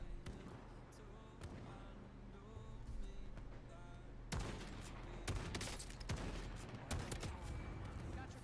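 Bursts of rapid gunfire crackle through a shooter video game match, dense volleys and single sharp shots packed together, loud and close, with excited talk in between.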